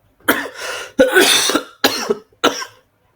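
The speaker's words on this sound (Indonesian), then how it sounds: "saya sedang batuk ya" Four separate coughs, close and fairly loud, spaced out over a few seconds with short silences between them.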